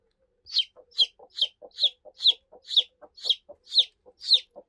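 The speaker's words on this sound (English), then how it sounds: "Had a really good chirp." A weak chick being hand-fed peeps in a steady series of about nine evenly spaced chirps, close and fairly soft, with no voices over it.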